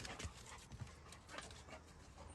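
A dog pants in quick, rhythmic breaths close by, soft and steady with faint shuffling and no talk over it.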